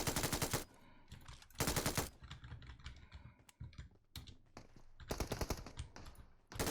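Machine gun fire in the video game PUBG Mobile, several loud rapid bursts separated by brief pauses, with quieter clatter in between.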